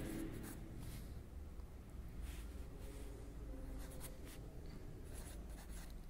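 Writing on a board during an online grammar lesson for fifth-graders, heard as faint scratchy strokes over a constant low background hum with no speech.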